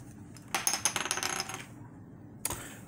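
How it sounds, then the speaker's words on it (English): Dice are rolled at the end of a tarot reading, a close burst of rapid clattering clicks that tumbles for about a second and dies away, then one last sharp knock, with no talk. "what I do is I always roll my dice"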